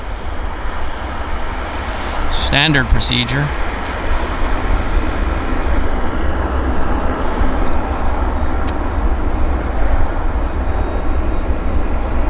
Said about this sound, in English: Taxiing with the one engine shut down to save fuel.